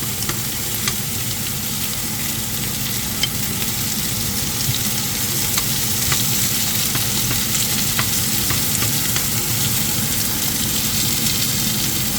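Garlic frying in a pan gives a loud, close, unbroken sizzle with faint crackles throughout, in a home kitchen while chicken afritada is cooked. No one speaks.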